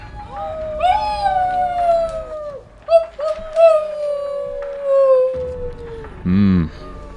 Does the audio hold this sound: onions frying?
no